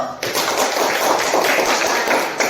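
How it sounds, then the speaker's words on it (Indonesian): A class of students claps for group 1 after their presentation during a practice teaching lesson, a close, busy rattle of many hands that starts abruptly and runs steadily for a couple of seconds. "Beri tepuk tangan dulu buat kelompok 1"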